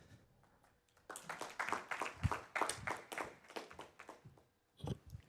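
A small audience clapping at a talk event, sparse individual hand claps starting after a quiet second and building to a modest round, then fading with a final few claps, fairly faint and distant.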